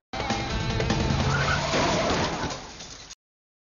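A car skids with squealing tires as it strikes a passing motorcyclist at an intersection in an Indian film scene, a loud, dense burst of screeching and impact lasting about three seconds before cutting off abruptly.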